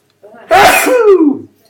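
A single allergy sneeze, loud and close: a sharp intake followed by a burst that trails off into a brief voiced tail.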